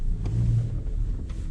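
A car rolls through the streets of Mirny, Yakutia, with a steady low engine rumble and road noise heard from inside the vehicle.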